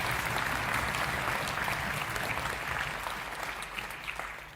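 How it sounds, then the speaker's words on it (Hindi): Steady applause from an audience filling a legislative assembly hall during a children's parliament event, dense and continuous throughout, gently tapering toward the end. "जोरदार तालियों से"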